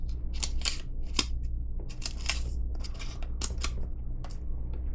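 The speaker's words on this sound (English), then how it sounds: "scissors that work okay." Small multitool scissors from a knife box snip repeatedly in quick, crisp clicks and cuts, close up over a low background hum with no talking.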